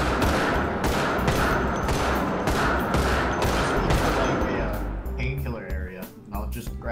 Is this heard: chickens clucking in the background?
no